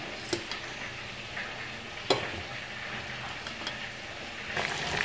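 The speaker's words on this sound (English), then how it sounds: "Here it is almost fried" Chicken koftas fry in hot oil in a pan with a steady, soft sizzle. A few sharp clinks of a utensil against the pan cut through, and no one speaks.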